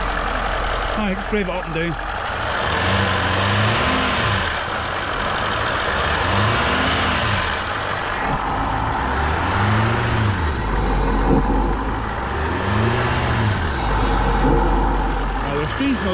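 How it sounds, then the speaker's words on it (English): A Range Rover L405 engine idles and is revved repeatedly in a workshop, with a loud close rise and fall of each rev and a strange noise from the intake, while someone talks over it. "Now there's a strange noise coming through the intake."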